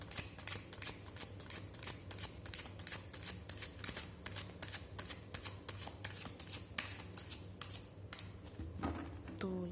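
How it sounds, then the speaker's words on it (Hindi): Tarot cards shuffled by hand close up, a steady rapid riffling and flapping of card stock that runs on without pause, with faint speech surfacing near the end. "मैंने कार्ड शफल कर लिए हैं"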